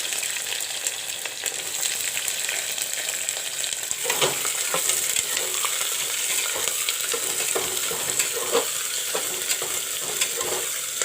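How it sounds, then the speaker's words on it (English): Sliced onions frying in oil with bay leaves and whole garam masala, a steady close sizzle with occasional stirring scrapes and clicks, alone without talk. "Let the onions fry pinkish brown."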